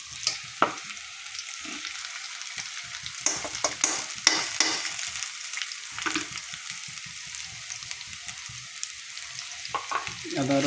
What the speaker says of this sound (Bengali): হালকা ব্রাউন বাদামি রং হওয়া পর্যন্ত ভালো করে একটু ভেজে নেব